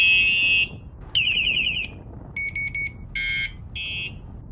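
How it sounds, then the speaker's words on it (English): An INMOTION V14 Adventure electric unicycle's anti-theft alarm, set off remotely with a Bluetooth ring, sounds a loud series of electronic beeps and warbling tones in separate bursts with short gaps between them, and no one speaks. "if somebody bumps or moves your wheel, then yeah, you've got an alarm on it"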